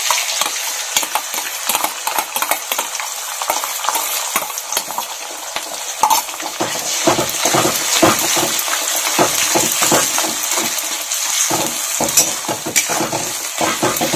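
Beaten egg stir-fried with cabbage in a wok-style pan: a steady sizzle runs throughout, broken by repeated scraping strokes of a spatula against the metal, close and fairly loud with no talking.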